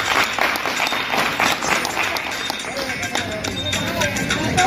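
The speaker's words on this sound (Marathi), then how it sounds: "एकदा जोरदार टाळ्या द्या डॉक्टर मृणाल पिडुरकर करता." A crowd at a hall felicitation applauds Dr. Mrinal Pidurkar: dense, sustained clapping from many hands, loud and even for several seconds with slight swells toward the end.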